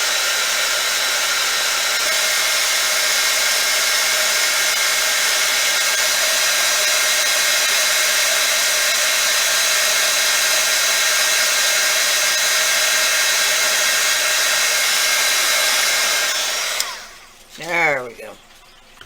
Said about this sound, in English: I always heat my heat gun off of the surface I'm embossing